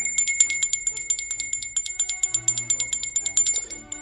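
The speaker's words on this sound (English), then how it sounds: "That bell means we're halfway through the show" A bell rings on a podcast show to mark its halfway point, sounding as a fast, steady series of bright, ringing strikes that carry on for several seconds with no talking.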